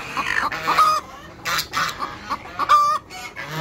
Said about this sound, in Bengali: সে জানান দিচ্ছে যে ডিম পেরেছে